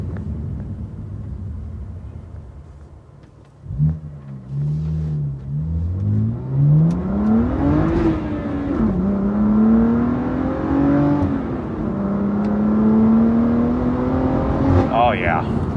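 BMW M2 CS tuned with a Carbahn Stage 2 piggyback accelerating hard from inside the cabin, the engine note climbing steadily through the revs with brief dips at gear shifts, loud and continuous.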